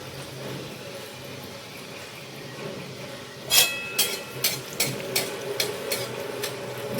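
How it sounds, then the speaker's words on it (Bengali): Potato sticks coated in gram flour frying in oil in a wok: a low steady hiss, then from midway a series of sharp crackling sizzle bursts as pieces drop in, repeating every half second or so, close and fairly loud. "তো তোমরা এইভাবে মেখে এই এক এক করে কড়াইতে ভাজবো।"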